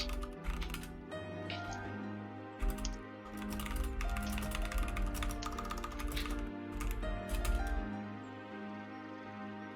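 Steady clicking of keys as someone types on a computer keyboard, close and continuous for several seconds, with a low hum and faint background sound underneath.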